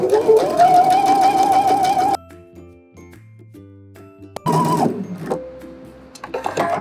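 A sewing machine stitches a second row of basting stitches along fabric for a set-in sleeve, a whirring mechanical burst that stops abruptly, leaving quieter clicks and tones before a second short run of stitching.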